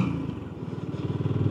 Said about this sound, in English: So the BSA Gold Star is a wonderful machine.